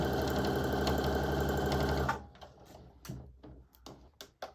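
A sewing machine stitches a flannelette onesie in a steady, fast whirring run for about two seconds, then stops, followed by quiet fabric handling and light knocks.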